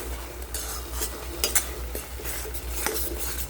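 Mustard paste with ground turmeric being stirred in a pan, a spoon scraping and tapping the metal in steady strokes over a low background sizzle, close and moderately loud.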